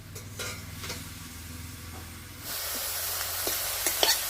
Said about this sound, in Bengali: এখানে শাক ভাজা করছি